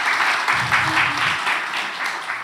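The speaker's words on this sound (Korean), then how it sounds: "우리 하나님께 영광의 박수 한번 올려드리면 좋을 것 같습니다" A church congregation gathered for a one-day retreat for small-group leaders breaks into sustained applause, a dense wash of clapping at steady loudness throughout.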